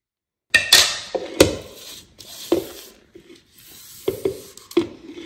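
A spatula works through silky chocolate lava cake batter in a bowl, giving a handful of sharp clinks and taps against the bowl with short, soft scraping strokes in between, close and alone.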